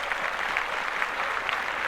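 Steady group applause from people on a podcast, a dense continuous patter of clapping at moderate level with no talk.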